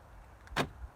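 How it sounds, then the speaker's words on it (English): Remote central locking on the doors of a Vauxhall Cavalier mk2 SRi 130 clicks once, a single short mechanical clunk of the locks heard alone against quiet background. "I shall just demonstrate the remote central locking"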